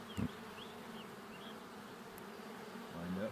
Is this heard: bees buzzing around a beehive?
yes